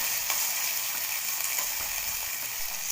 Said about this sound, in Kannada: ನೋಡಿ ನಾನೀಗ ಚೆನ್ನಾಗಿ ಟೊಮೊಟೊ ಮೆತ್ತಗಾಗೋವರೆಗೂ ಬೇಯಿಸ್ಕೊತಾ ಇದ್ದೀನಿ